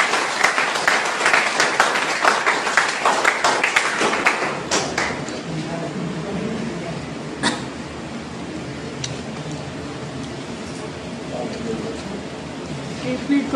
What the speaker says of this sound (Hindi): तो सर का कृपया तालियों से स्वागत।